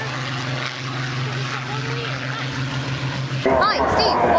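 A propeller aeroplane drones steadily at the 2008 Waddington International Air Show, its engine hum continuous and fairly near, with crowd noise and voices rising toward the end.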